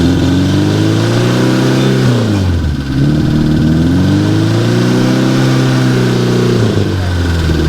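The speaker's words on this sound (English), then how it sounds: "Rev it up." A Porsche 550 Spyder kit car engine revs loudly up and down close by, rising in pitch, dropping briefly around the middle, then climbing again in a strong sustained roar.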